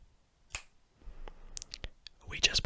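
A single sharp finger snap rings out alone and close in a quiet room, set within a card magic trick, with faint rustling and small clicks near the end.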